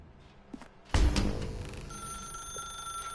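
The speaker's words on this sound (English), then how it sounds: "Now pick up the phone." A telephone in The Stanley Parable video game starts ringing abruptly after a soft thump, a loud electronic bell that keeps ringing steadily and close by.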